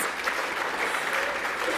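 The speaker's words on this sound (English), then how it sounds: "Applause for Jess." Applause at a VFL women's football best and fairest awards night: a steady, even wash of crowd clapping throughout, moderately loud, with no voices over it.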